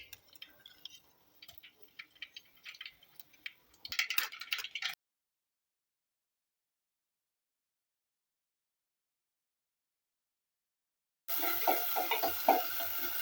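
Mustard seeds fry in a little oil, a crackly sizzle with scattered pops that briefly intensifies, cuts to silence for several seconds, then returns as a louder steady sizzle.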